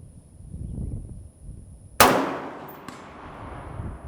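A single sharp AR-15 rifle shot cracks loudly and close, followed by a decaying echo, after quiet background rumble.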